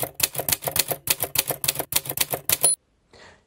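Pen or chalk scratches out a trigonometry equation in a rapid series of short, close, rhythmic strokes, about a dozen in quick succession, then stops.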